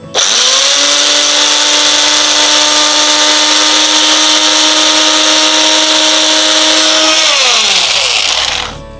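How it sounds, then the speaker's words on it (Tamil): A mixer grinder whirs loudly as it grinds ingredients into powder, a steady high-pitched motor roar that holds for about seven seconds before winding down and stopping near the end. "இப்போ இந்த பொருட்களில் நம்ம அரைச்சிக்கலாம் அரைச்சி இது ஒரு பொடியை தயார் பண்ணிக்கலாம்"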